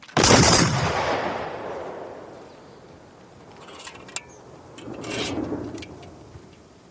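A volley of rifles fired together on command, one loud sharp crack at the start whose rumble decays over several seconds, followed by a quieter rustling swell of movement.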